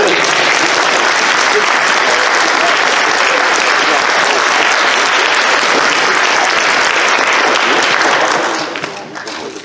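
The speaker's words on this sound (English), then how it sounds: "Round of applause." Loud, sustained applause from an audience at a voice-acting panel event rings out continuously, dense and close, before tapering off in the final moment.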